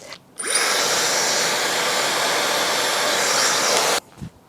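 A hair dryer fitted with a diffuser is switched on for about three and a half seconds, blowing a loud, close, steady whirring roar that starts and stops abruptly.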